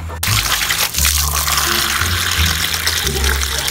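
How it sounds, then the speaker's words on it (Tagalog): Water is poured into a chicken's drinker, a steady splashing fill with low rumbling underneath throughout, close and fairly loud, with no talking. "so lagyan naman natin siya ng tubig."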